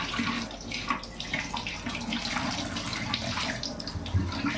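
Water runs steadily from a tap while cut jackfruit is rinsed in a sink, a constant close splashing flow with no voices.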